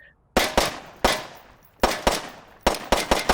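A controllable 20-round video game gun fires in quick bursts, each sharp crack followed by a short decaying tail. Several short volleys are spaced out with brief gaps between them, loud and close.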